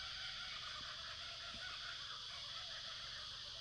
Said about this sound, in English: You guys can hear that, that's a kookaburra.